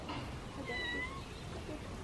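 A cat meows once or twice, a short rising-and-falling cry mid-range in loudness, over a steady rumble of room and background noise.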